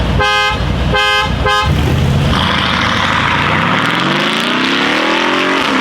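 Three loud, close car horn blasts in quick succession, then a Mercedes G63 AMG or Brabus engine revs up and accelerates, rising steadily in pitch.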